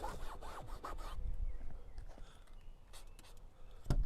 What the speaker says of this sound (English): just a matter of rubbing it in and get it